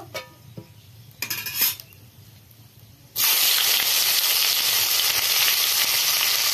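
Onion and chili hit hot oil already seasoned with cumin and burst into a loud, steady sizzle that starts abruptly partway through, after quieter clinks of pots and utensils.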